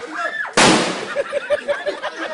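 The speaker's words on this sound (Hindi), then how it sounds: "तो चलिए करते हैं धमाका।" A single sudden loud explosion bursts in abruptly after a short tonal swoosh, then decays into a rumbling tail with scattered pops and crackles.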